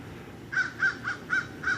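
A crow caws five times outdoors at a curbside, in a steady rhythm of short, fairly loud calls over a low background hum.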